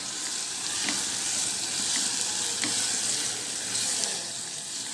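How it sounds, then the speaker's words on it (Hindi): Two medium sliced onions fry in a pan toward brown, giving a continuous bright hiss of sizzling oil with a few faint stirring ticks, steady and close, with no talking. "अब हम इसे ब्राउन होने तक फ्राई कर लेते हैं।"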